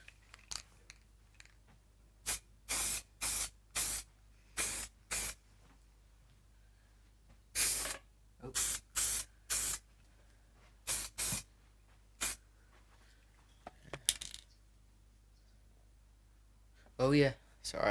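Aerosol spray paint hissing onto a wooden farm post outdoors, in a series of short bursts of about half a second each, some longer, loud and close, with a pause midway and a final burst near the end.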